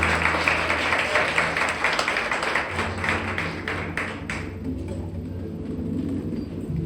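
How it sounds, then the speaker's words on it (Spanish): A church congregation standing and applauding during a sermon, a loud burst of clapping that thins out after a few seconds into a low hum of room noise and lingering scattered claps. "Apláudale fuerte al que diga, al que aplauda."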